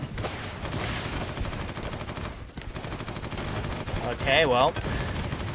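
Gunfire striking the player in Warhammer 40,000 Eternal Crusade, with loud, rapid bursts of shots layered over a noisy battle and a short whining effect near the end. Someone speaks briefly during the firing.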